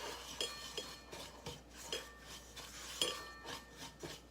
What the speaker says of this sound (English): Get that all mixed together.